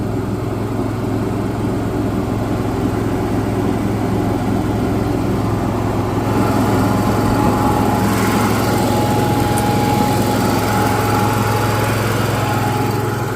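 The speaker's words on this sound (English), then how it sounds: "It's kind of crazy how quiet it is when you put the front cover of the generator on." Giraffe Tools pressure washer engine running with its front cover on, a steady, even mechanical hum close by, unbroken throughout with no talking.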